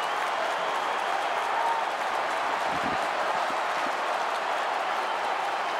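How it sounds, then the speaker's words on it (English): A sellout football crowd at Subiaco roars and applauds after a goal in a West Coast versus Sydney AFL match, a dense, loud, continuous wash of cheering that holds steady throughout. "Crowd lifting. Sellout crowd at Subiaco."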